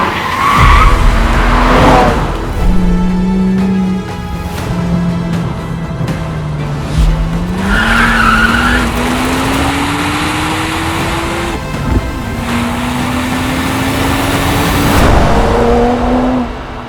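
A BMW 1M, a 2011 M car, drives hard with long tire squeals and skids, its engine pitch climbing and dropping through revs and gear changes, loud and close with no talking.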